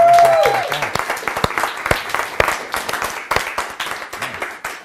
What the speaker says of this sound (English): Now, by round of applause,